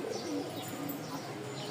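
Pigeons, a pair of white birds with black beaks, coo softly and continuously at a market stall, the low murmuring steady throughout at moderate distance.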